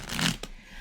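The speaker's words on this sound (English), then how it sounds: "I'm going to shuffle one more time, and then we're going to draw the top card." A deck of playing cards being shuffled close by, a quick riffling burst that builds then ends with a soft tap as the cards settle, short and alone with no talk.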